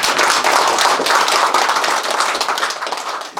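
People clapping at a village gathering with a city mayor, a loud, close burst of many hands with sharp individual claps, fading out toward the end.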